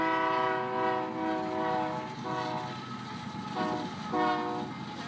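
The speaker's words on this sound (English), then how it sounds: "And a train's coming." A passing train blows its horn in several long, loud chord blasts separated by short breaks, over a rolling rumble of railcars, heard outdoors with crowd noise around.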